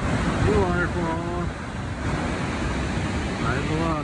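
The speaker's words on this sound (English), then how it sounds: "New waterfall." Steady broadband roar of a waterfall below Upper Yosemite Falls in Yosemite fills the scene, with a person talking over it in bursts.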